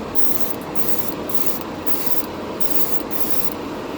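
A Harbor Freight airbrush driven by its combo compressor sprays in a loud, steady hiss close by, with brief pulsing dips as the trigger flow varies, and no voices.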